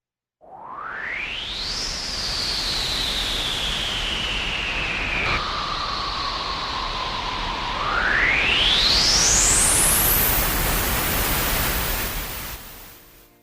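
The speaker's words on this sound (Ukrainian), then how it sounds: "це звук потужного вітру та заметілі" Howling wind roars steadily over a broad hiss, with a whistling tone that bends down, then sweeps sharply upward before fading out.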